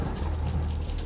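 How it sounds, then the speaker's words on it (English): Steady, dense rain pours down in a thunderstorm, a continuous hiss of drops over a low rumbling background, close and even throughout. "Okay, got some rain."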